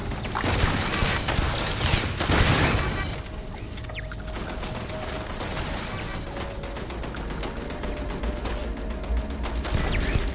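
Gunfire in Starfield, a burst of loud rapid shots and crashes up front, then a steadier stream of quieter repeated shots over ambient hum.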